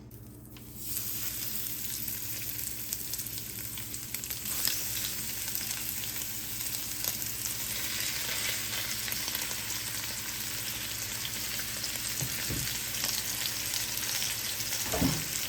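Cajun-seasoned chicken pieces frying in avocado oil in a pan, a steady close sizzle and crackle that holds evenly throughout with a few sharper pops near the end.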